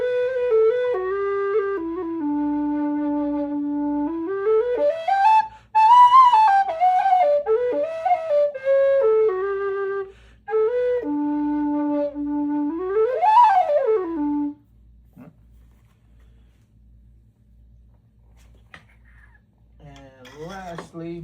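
A low D aluminum whistle plays a slow melody of sustained, pure notes with gentle slides, pausing briefly mid-phrase, then a short faint flourish near the end.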